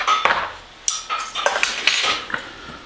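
Casserole ingredients for pork chops with cheesy hash browns being mixed in a bowl, with a run of clinks and scrapes from a utensil against the dish, close and moderately loud, no talking.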